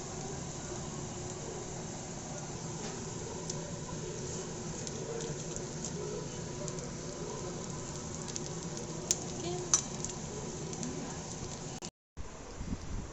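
Eggplant fritters (beguni) frying in hot oil, a steady close sizzle and crackle running throughout with small pops, briefly cutting out near the end.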